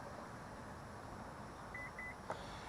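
Two short electronic beeps in quick succession from a 2024 Honda CR-V Hybrid power tailgate, faint over a steady low rumble of background noise.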